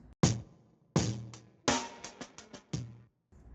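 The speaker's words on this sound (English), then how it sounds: "This first one is a halftime stretch sample." A halftime-stretched drum fill sample from a hip-hop and rock hybrid track: a few spaced, heavy hits followed by a quicker burst of smeared, textured drum strikes, fairly quiet and alone.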